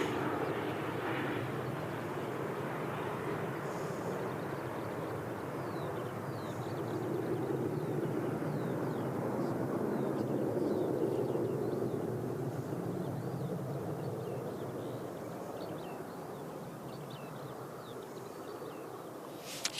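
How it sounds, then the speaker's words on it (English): Boeing 737 jet passing at Christchurch Airport, a broad steady roar that swells gently toward the middle and eases off, continuous and fairly close. "The 737s are pretty loud when they go past."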